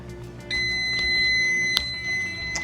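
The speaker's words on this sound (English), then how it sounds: "there goes the timer" A kitchen timer sounds a steady high electronic tone that starts abruptly and holds for about two seconds, with one sharper chirp partway through, fairly close in a quiet room.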